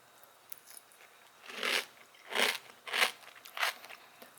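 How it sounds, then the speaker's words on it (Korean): Hard, crunchy almond-flavored cereal is bitten and chewed in four distinct close crunches spaced about half a second to a second apart, quiet and alone with no talking. "완전 바삭바삭하다 못해 뭐 딱딱한 약간 그런 시리얼인데"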